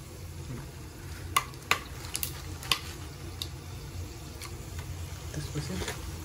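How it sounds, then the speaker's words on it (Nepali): Whole spices briefly frying in hot oil for khapsa, a soft steady sizzle close by with a few sharp utensil clicks and taps early on, a person talking over it. "अब यो खडा मसलालाई हालेर एकैछिन हल्का भुट्नुपर्छ।"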